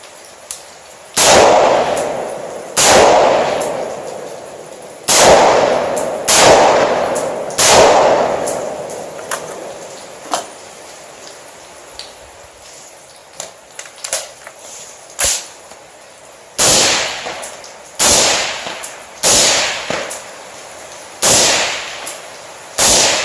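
An AR pistol firing at a shooting range, loud sharp cracks spaced out singly and in quick pairs and triples, each ringing off briefly, with quiet gaps between the shots.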